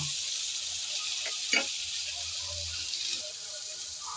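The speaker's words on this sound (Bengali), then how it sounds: "আদা আর রসুনের কাঁচা গন্ধ যেন চলে যায় সেজন্য নেড়ে চেড়ে আবারও একটু ভেজে নিলাম" Ginger paste frying in a pan with a steady, fairly quiet sizzle throughout, broken by a brief scrape or stir near the middle, while Bengali-style kakrol curry with prawns is being cooked.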